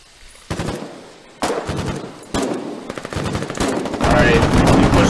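Rapid automatic gunfire from the online war game Foxhole comes in loud bursts roughly every second, then becomes sustained and continuous toward the end.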